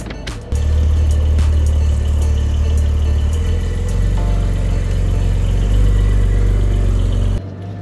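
Car engine in a driving simulator, a loud steady mid-pitched drone that starts abruptly, holds with a gradual rising pull as the car accelerates, then cuts off near the end.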